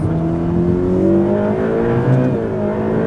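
A Ferrari with a dual-clutch gearbox accelerating hard, its engine note rising steadily from inside the cabin, loud and continuous with a quick gear change near the end.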